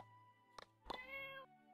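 A cat meows twice in My Time at Portia, quick near mews over a steady musical backdrop and no speech.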